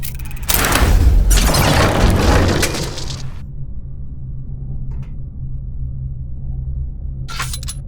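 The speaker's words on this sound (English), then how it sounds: "The explosions didn't affect the room." Bomb explosions in the adventure game Verne: The Shape of Fantasy: a loud, deep booming rumble with crumbling debris for about three seconds, then a long low hum with a couple of faint clicks.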